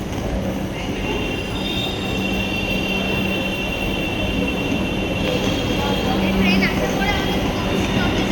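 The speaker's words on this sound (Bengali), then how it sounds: "ওই আসছে আমাদের মেট্রো।" A metro train pulls into the station with a loud, steady rolling rumble and a thin, high wheel squeal that rises near the end, heard up close on the platform.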